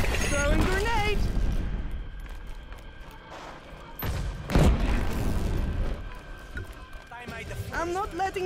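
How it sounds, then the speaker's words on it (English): A grenade explosion in the shooter Killzone Shadow Fall during a clan match: one sharp, heavy boom midway through, amid scattered gunfire, with voices talking before and after. "Throwing grenade!"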